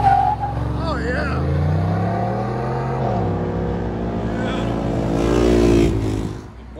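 A Chevy Silverado with a 5.3L V8 and Borla Touring exhaust pulls away, its engine note rising loud and close as it accelerates, with voices talking over it before it fades at the end.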